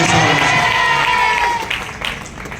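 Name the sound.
applause from audience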